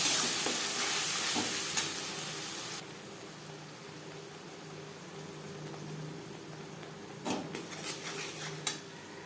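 A paste of onion, tomato and garlic hits hot oil with a loud burst of sizzling that settles into a quieter fry, followed by a few clinks and scrapes of a utensil against the pan.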